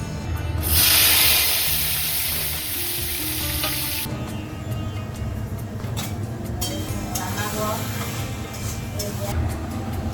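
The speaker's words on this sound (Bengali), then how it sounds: "এখানে করে নিচ্ছি কচু শাকটা" Taro greens frying in a pan during a home cooking festival, a loud hissing sizzle at first that settles into steady frying with light stirring clicks, while people talk in the background.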